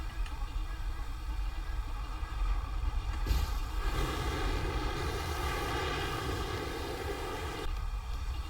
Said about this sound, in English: And that down there is an F-18.